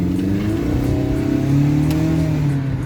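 A Mercedes W204 with a straight-piped exhaust revs loudly and close by, its engine note climbing and settling in steady waves for about three seconds with no talk over it.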